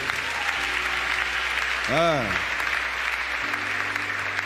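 Church congregation applauding, a broad steady wash of clapping across the whole stretch, moderately loud, with a brief voice-like tone rising through the middle.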